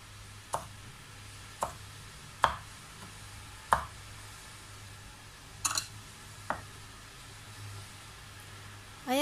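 A knife slices red chili and other ingredients for chicken with bitter gourd on a cutting board, giving a handful of separate, crisp taps spaced a second or so apart over quiet room tone.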